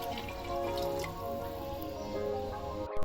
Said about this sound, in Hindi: अब मैं दाल के साथ ऐड करने लगी हूँ 3 गिलास पानी।